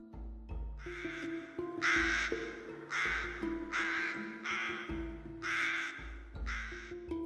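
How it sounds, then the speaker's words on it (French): Crows caw in slow, harsh bursts, several calls spaced across the stretch over a sustained musical backdrop, with no one talking. "Seul, par moments, le croassement sinistre d'un corbeau invisible déchirait l'air."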